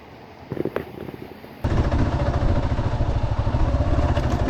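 Motorcycle ridden along cliff-edge dirt trails near Monterrey: a quiet start with a few brief knocks, then the engine cuts in suddenly as a loud, steady rumble with rapid throbbing pulses, close to the listener.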